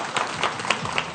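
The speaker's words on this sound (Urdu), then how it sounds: "جن کے خیال میں انہوں نے سب سے اچھا شعر سنا ہے وہ تالیاں" A studio audience applauds at a televised cricket-league chat show, a brief dense wash of clapping at moderate level with no talk over it.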